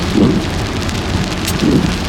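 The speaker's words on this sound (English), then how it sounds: "I can't wait for it to stop raining." Steady rain falls outside on a wet evening in Washington, D.C., a dense, close hiss with a faint low rumble underneath. It runs continuously with no voices.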